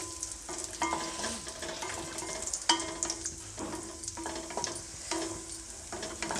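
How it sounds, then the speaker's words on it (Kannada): Raisins and cashews frying in ghee, a continuous crackling sizzle with repeated scraping stirs of a spoon against the pan, close and steady throughout. "ಇವಾಗ ದ್ರಾಕ್ಷಿ ಗೋಡಂಬಿ ಫ್ರೈ ಆಗಿದೆ"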